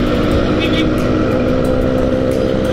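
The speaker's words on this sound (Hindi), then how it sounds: "एक स्कूटर पे 4 बंदे बिठाए हैं बंदे ने" Scooter carrying four people riding through traffic in Jammu, with a steady, loud engine drone and road noise filling the whole stretch.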